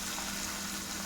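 Garlic crackles and sizzles in hot oil with mustard and cumin seeds for a tomato pickle, a steady, close frying hiss with no talking.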